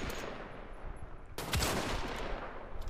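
Gunfire in the video game Wolfenstein: The Old Blood, with a sharp burst of shots breaking in midway and a rattling volley continuing over a low background rumble.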